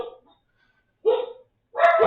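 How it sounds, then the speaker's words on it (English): Dogs bark indoors in two or three short, loud bursts separated by silence, with a yip at the end. No talking is heard. "Sorry about the dogs."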